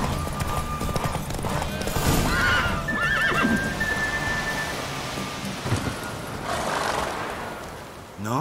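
A horse gallops with clip-clop hooves and gives loud whinnies during a race in The Witcher 3, with rain and distant thunder in the background.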